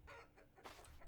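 A hen in the video game Vintage Story clucks in a short, soft run of rising and falling calls, fairly faint and with nobody talking over it.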